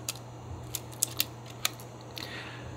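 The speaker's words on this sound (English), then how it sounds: "This is going to count down, and when the count is finished, then it's going to trigger the shutter at our selected shutter speed." Original Canon F-1 film SLR self-timer running, heard as faint mechanical ticks and a few sharp clicks ending in the shutter release, over a steady low hum in a quiet room.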